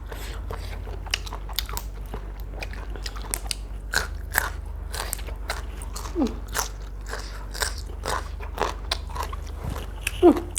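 Sweet snails (hoi wan) being chewed close to the mic, with repeated crisp bites and crunches in an irregular rhythm over about ten seconds and no talking.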